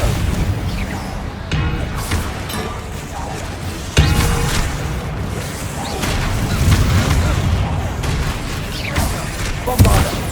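Confringo fire-blast spells from Hogwarts Legacy burst repeatedly in a loud combat scene, sharp booming hits landing every couple of seconds amid a continuous roar of battle effects, with spoken spell calls mixed in.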